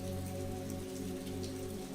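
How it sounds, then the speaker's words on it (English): Rain pattering on city pavement in New York, a soft, steady hiss of drops under a constant low hum, faint and even with no voices. "The pitter-patter of raindrops hitting the pavement created a symphony of sound"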